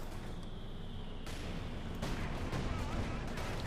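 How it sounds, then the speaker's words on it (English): Mortar rounds firing and landing in Company of Heroes 2, heavy thuds and blasts breaking over a low rumbling battlefield, moderately distant. "mortar firing down here in the centre. Double mortars."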